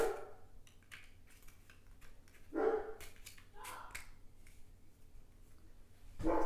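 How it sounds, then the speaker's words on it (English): Pet dogs barking a few times at a distance in a home, sharp yelps coming in separate bursts over a quiet room background. "There goes my dogs barking."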